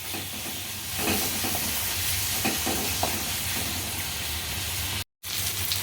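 Spices roast in oil over medium heat in a pan, giving a continuous sizzling hiss with occasional stirring scrapes and a brief dropout near the end.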